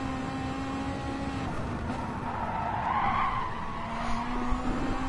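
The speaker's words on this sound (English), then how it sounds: "You hear the tyres squealing for life." Race car tyres squeal steadily on a circuit as the car is worked through a sequence of right-hand turns, a sustained high screech over engine drone that swells in the middle.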